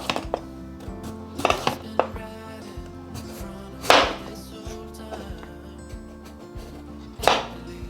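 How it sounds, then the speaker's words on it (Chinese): A knife cutting a peeled potato into thick slices on a board, several sharp chops spaced irregularly over steady low background noise, with no talk. "把馬鈴薯削皮，把馬鈴薯切成厚片狀"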